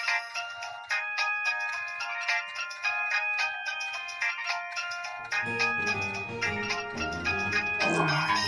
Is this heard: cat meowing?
no